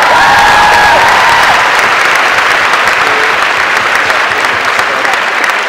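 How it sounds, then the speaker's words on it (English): A comic con panel crowd at Salt Lake City FanX breaks into loud, sustained applause mixed with a few whoops and cheers, a dense roar of clapping that stays strong from start to finish. "Give them a round of applause, ladies and gentlemen."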